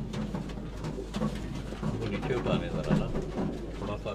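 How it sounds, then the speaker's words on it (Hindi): Tokri wale pigeons, an old breed kept for pigeon flying in Sialkot, coo softly and repeatedly over steady background noise, mixed with nearby human voices. "ये टोकरी वाले कबूतर हैं दोस्तों"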